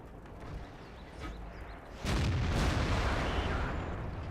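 A tank gun in World of Tanks, played on the Dragon Ridge map with a VK 45.02 A, fires a loud deep boom midway that rolls into a sustained rumble, over low engine noise, with no talk.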